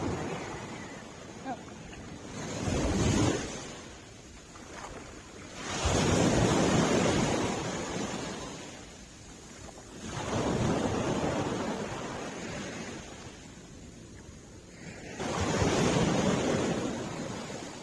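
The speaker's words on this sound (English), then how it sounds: "The waves are so beautiful." Ocean waves break on the shore at Antalya, Turkey, in four slow surges several seconds apart, each rising into a broad wash then receding, with wind noise between them.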